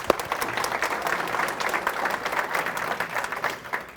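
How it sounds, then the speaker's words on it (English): A luncheon audience at a Chamber of Commerce event gives sustained applause, a dense, even wash of many hands clapping at moderate volume with no speech on top. "So yes, let's give them a round of applause."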